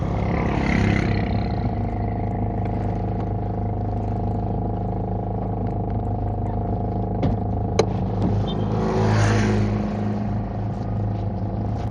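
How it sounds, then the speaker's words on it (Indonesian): The engine of a used 1995 Toyota Corona Absolute runs steadily at idle under a low, even drone, with faint rising swells and a brief click partway through. "Mesin Corona Absolut tahunnya 95. Nah ini mesinnya bosku"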